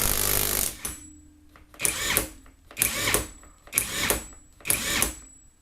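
RUYIKA 21V 460Nm cordless impact wrench running in five short bursts, each a loud rattling hammer-and-whine lasting under a second, separated by brief silences with a faint electronic tone.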